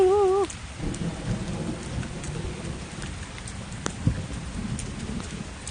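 Steady rain pours during a Florida thunderstorm, with a broad wash of falling drops and a low rumble of thunder underneath. A sharp nearby crack stands out partway through, and the downpour stays fairly loud and continuous throughout.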